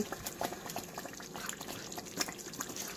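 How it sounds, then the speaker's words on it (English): A pot of palm oil and cassava leaf stew bubbles at a steady simmer, with soft, continuous popping and gurgling close by, fairly quiet and with no voices. "This is the water boiling away, and then the palm oil is rising to the top"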